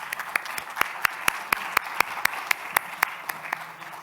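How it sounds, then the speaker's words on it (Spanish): An audience at a cruise-industry panel debate claps to seal a signing, heard as a steady, evenly spaced run of sharp claps, moderately loud and close. "y sellamos esta firma con un aplauso"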